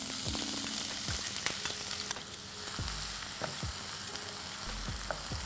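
Two medium chopped onions fry in hot oil on a high flame in a pan for squid masala, giving a steady close sizzle with repeated spoon scrapes and light clinks of stirring, and no talk.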